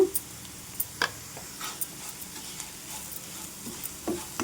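A spoon stirs cauliflower masala fry in a sizzling pan, with soft background frying broken by irregular scrapes and clicks against the pan, no voices.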